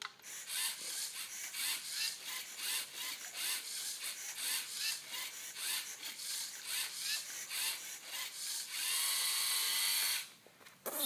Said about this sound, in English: So as you see, it has printed the word Lego.